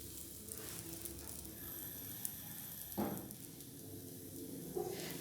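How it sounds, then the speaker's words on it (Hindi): Mooli paratha laid on a preheated tawa gives a steady, faint sizzle, with a couple of brief louder crackles as it settles on the hot surface. "अब हम इसे तवे पे डालेंगे।"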